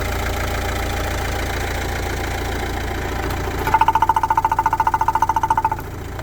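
A 2018 Renault Trafic 1.6 engine idles with the hood open, a steady close drone that picks up a rapid rhythmic ticking pulse partway through.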